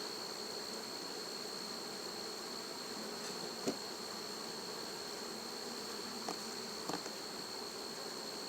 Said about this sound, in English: Get out of there, bee.